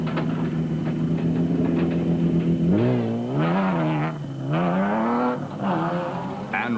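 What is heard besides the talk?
Ford Ranger race truck engine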